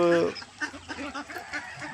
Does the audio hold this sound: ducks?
yes